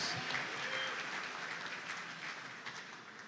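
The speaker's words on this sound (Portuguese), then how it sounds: "E você pode aplaudir o Senhor." Church congregation applauding during a Baptist family service, steady sustained clapping from a large crowd filling the whole stretch, fairly even in loudness with a slight fade toward the end.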